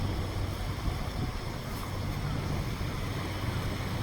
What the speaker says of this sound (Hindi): बस जो है पानी में घुस गई भाई।